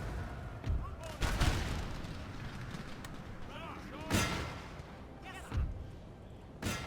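Musket volleys and artillery fire in a Napoleon Total War battle, heard as several sharp, loud cracks and booms spaced a few seconds apart over a continuous rumbling battlefield din.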